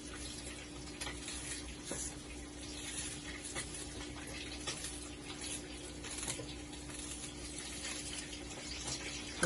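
A kitchen tap runs steadily over a sweet pepper being washed in the sink, a soft continuous splash with faint clicks from handling.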